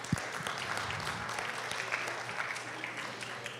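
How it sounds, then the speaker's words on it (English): An audience at a family conference gives a round of applause for the week's volunteers, a soft, steady patter of many hands heard from some distance, continuing evenly throughout. "so please give them a round of applause."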